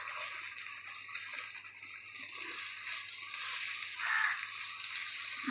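Sukhiyan dumplings fry in oil in a pan. A soft, continuous bubbling sizzle carries on at low volume and swells slightly near the end.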